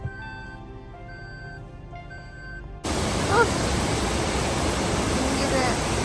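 Water rushes at a tourist spot near Madikeri, an abrupt loud, steady roar that starts partway through after a stretch of soft sustained musical tones.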